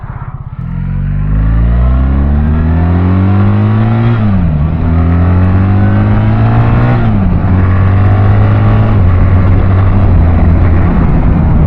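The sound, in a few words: BMW R1300GS motorcycle being ridden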